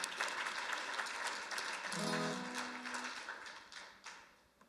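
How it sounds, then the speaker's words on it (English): Faint applause at an interfaith climate conference dinner honours the cooks, a soft wash of clapping from a room of people, briefly joined by a low humming voice midway before the clapping tapers off. "Round of applause for those who cooked the meal."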